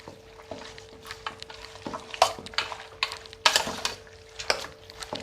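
Pork with pieces of kodampuli being stirred in a pressure cooker, giving scraping, clattering strokes with scattered louder scrapes over a faint background hum, no talking.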